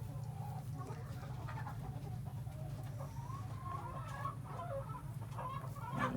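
Hens clucking steadily in a farmyard, with a continuous low hum of background noise and occasional louder cackles near the end.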